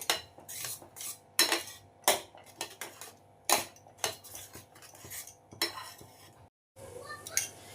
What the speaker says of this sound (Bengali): এটাকে ভালো করে ফ্রাই করব মশলাটাকে।